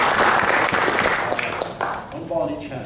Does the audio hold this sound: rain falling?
no